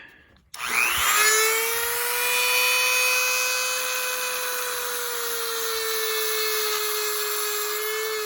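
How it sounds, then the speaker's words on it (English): A Dremel rotary tool spins up sharply and holds a steady, loud high-pitched whine while grinding off a rivet on a chain. "A little Dremel action here."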